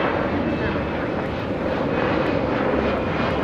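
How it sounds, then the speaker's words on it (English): A Boeing 777 passes overhead near LAX, a loud, continuous jet engine roar that stays steady throughout, with a voice talking over it. "Have a 777 flying above us here, heading to the south side."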